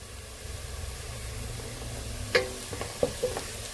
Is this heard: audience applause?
no